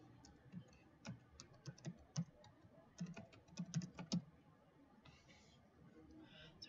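Light computer keyboard typing, close and quiet, in short irregular bursts of key clicks with brief pauses, trailing into faint rustling toward the end.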